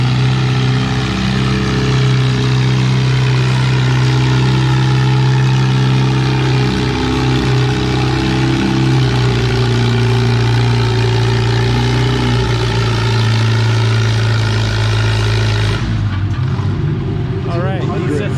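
A loud Farmall C tractor engine drones steadily at a low idle at a tractor pull, then the pitch shifts and the sound drops off near the end, with no other sounds over it.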